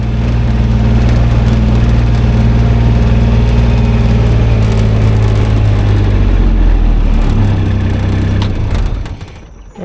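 A car engine hums loud and steady from inside the cabin while driving out to an Indian cornfield, a constant low drone that eases off near the end, with no talking.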